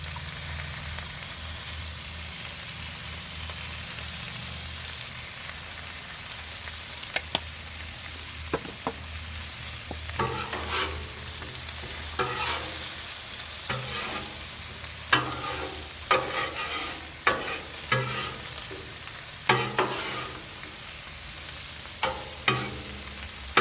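Land O'Lakes soft squeeze butter sizzling on a hot Blackstone griddle beside chicken and fried potatoes, a steady mid-level hiss with a run of sharp spatula scrapes and taps growing busier toward the end, no talk.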